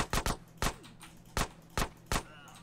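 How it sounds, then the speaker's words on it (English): Gunfire in GTA San Andreas: six or seven sharp, separate shots, close and loud, spaced irregularly over a couple of seconds with brief quiet between them. "Get some suppressing fire in there!"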